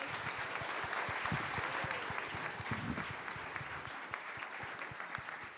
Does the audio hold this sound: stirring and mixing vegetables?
no